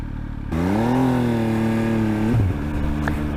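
An MV Agusta Dragster 800 RR three-cylinder motorcycle engine revs up and holds a loud, rising howl for nearly two seconds, then drops back to a lumpy idle.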